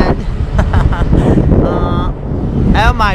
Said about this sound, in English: God, it's so freaking windy.